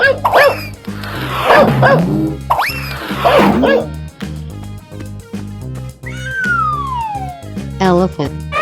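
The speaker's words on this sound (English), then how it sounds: "Dog." Cartoon dog barks in loud bursts over a bouncy music track with a siren-like sliding tone, voices mixed in.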